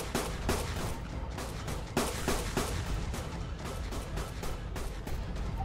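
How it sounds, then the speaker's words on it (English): Gunfire in ARK Survival, aimed at a dragon boss, pops out in a fast run of shots with several louder cracks, sustained over a rumbling game background. "I'm shooting him in the leg, now it's working"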